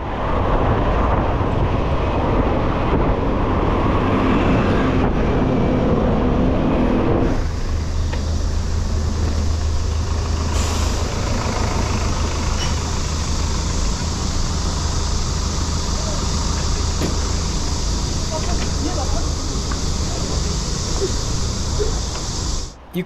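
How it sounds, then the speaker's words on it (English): Cars pass close by a cyclist on a Seoul road not meant for cycling, a steady broadband traffic rush with a louder surge early on, then continuous road and wind noise. "You can see cars pass pretty close to you if they have the room to do so."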